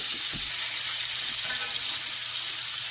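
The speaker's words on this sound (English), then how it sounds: "So we're basically just getting a little bit of a sear on each side" Salmon sears in a hot pan with a steady, close hiss and sizzle that never lets up, broken by a few soft clinks and scrapes.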